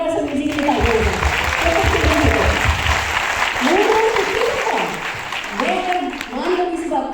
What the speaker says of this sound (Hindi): जोरदार एक बार समीर जी की तालियां हो जाए।